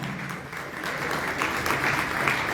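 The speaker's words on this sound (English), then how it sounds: "Let's give him a round of applause." An audience claps steadily at a storytelling gathering in a roundhouse, a dense, even round of applause that swells slightly toward the end.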